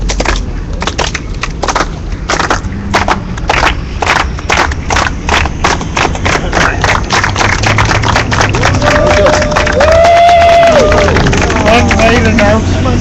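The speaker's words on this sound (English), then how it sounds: "end up with at least a solidarity clap" A group claps together in solidarity at the close of an October 2012 Occupy Los Angeles general assembly outdoors, scattered loud claps building into a steady ovation amid crowd chatter, with a brief whistle or cheer later.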